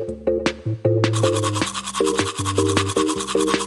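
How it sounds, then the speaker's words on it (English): A toothbrush brushes teeth in a kids' song, a rhythmic scrubbing swish repeating over bright musical accompaniment with a bouncing bass line, close and lively. "First, let's brush her teeth."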